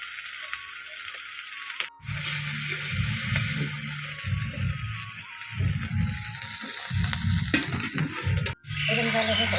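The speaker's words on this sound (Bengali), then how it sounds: "এই যে একটু কালি জিরা ফোড়ন দিলাম, এই যে মশলাটা দিয়ে দিলাম" Nigella seeds and spices crackling and sizzling in hot oil as a tempering, with bursts of rattling stirring scraped against the pan, close and fairly loud, briefly interrupted twice.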